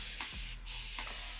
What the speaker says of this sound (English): I'm going to spray my hair